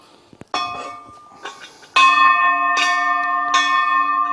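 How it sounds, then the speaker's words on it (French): A bell, struck with a stick at the very edge of its rim, rings out in clear sustained tones: a faint tap first, then two or three strong strikes whose bright harmonics linger and overlap close to the microphone. "il faut que le bâton vienne taper à l'extrémité du bord de la cloche."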